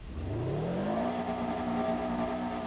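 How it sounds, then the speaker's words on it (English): A car engine revving up from idle, rising steadily in pitch over about a second and then holding a steady high drone, close and loud, with no talk. "Here's what the vehicle sounds like when you rev it up."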